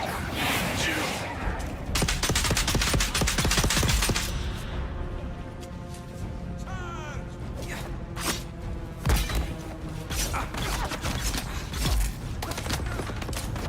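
Enemy gunfire in the video game Dune Awakening: rapid bursts of shots in dense volleys, then scattered single cracks and mechanical clanks, mid-distance and fairly loud.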